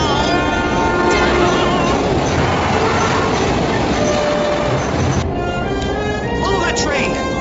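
A subway train in the animated series Ripley's Believe It or Not! rumbles and clatters past with steady rail noise and squealing wheel tones, continuous and fairly loud beneath shouted character voices.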